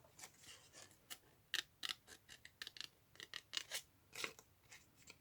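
Paper being cut with scissors in a quick, irregular run of crisp snips and rasping slices, close by, with no voices.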